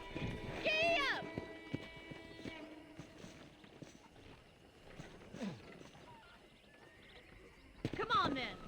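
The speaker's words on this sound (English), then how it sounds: "I picked out a fine horse for you. Giddy up!" In the Western video game Red Dead Redemption, a horse's hooves clip-clop at a walk on a ranch property, with voices, speech-like sounds and a whinny-like cry breaking in near the start and end.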